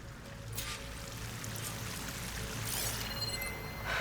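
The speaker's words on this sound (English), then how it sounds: "That waterfall must be coming from somewhere." A waterfall in Horizon Forbidden West gives a steady broadband rush of pouring water, constant and moderately distant, with no voices over it.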